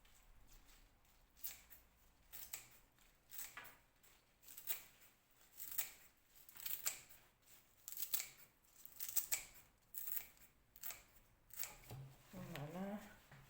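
Celery being cut into pieces in a kitchen, a series of soft, crisp snips and crunches at an uneven pace, close and fairly quiet, with a short clatter at the end.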